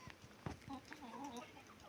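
Young roosters in a home yard give soft, scattered clucks and short chirping calls, fairly quiet and close, with no talking.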